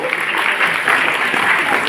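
Steady applause from a classroom audience after a correct answer in a school quiz on the Olympics, dense clapping sustained at even loudness throughout with no gaps.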